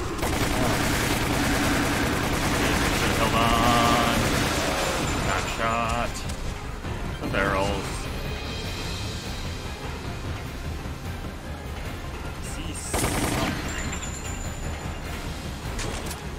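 Sustained bursts of video game gunfire and explosions from a Resident Evil-style shooter, heavy and continuous with loud booms, mixed under excited player talk and in-game voices.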